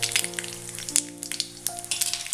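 Mustard seeds popping and sizzling in hot coconut oil on the stove, a steady crackle of small sharp pops over a low hum, with no talking.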